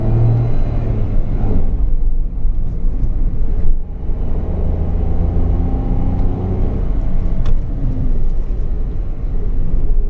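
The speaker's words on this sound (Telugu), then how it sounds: "ఇంజన్ నాయిస్ అయితే మనం క్లియర్గా నోటీస్ చేయొచ్చు" Renault Triber car engine droning steadily from inside the cabin while driving, a loud continuous low rumble with road noise and slight swells in pitch.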